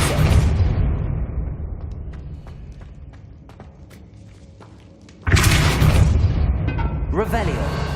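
A Depulso spell cast in Hogwarts Legacy, heard as a broadband whooshing burst with a thudding low end that fades out gradually. A second loud blast erupts about five seconds in, followed by a rising, tonal shimmer.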